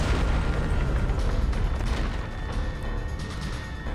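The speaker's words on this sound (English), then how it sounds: "Something explodes in the distance." A cannon barrage sounds in the distance, a continuous deep rumbling roar of blasts that stays loud and dense throughout, easing slightly toward the end with no speech.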